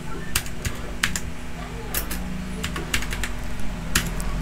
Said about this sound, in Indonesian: ketik aja Qioris nih